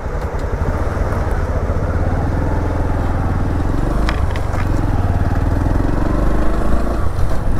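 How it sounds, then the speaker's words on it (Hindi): Bike taxi motorcycle engine running during a city ride to Kashmiri Gate bus stand in Delhi, a loud steady close drone with road rumble throughout. "भाइयों हम पहुंच गए कश्मीरी गेट बस अड्डे।"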